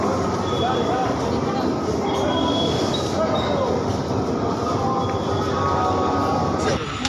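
A passenger train pulls out of Howrah station in Kolkata with a continuous loud rumble and rolling wheel noise, and faint squeals rise over the steady din while voices murmur in the background.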